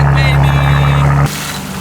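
A BMW M4 Competition with a Valtronic exhaust in a cold-start idle: a loud, steady, deep drone with a strong low hum. It cuts off abruptly to a much quieter background after about a second.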